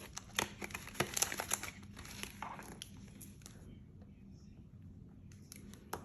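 Paper cash bills are crinkled and rustled as they are pulled from a household envelope, giving a cluster of close, soft crackles that fade into quiet room tone.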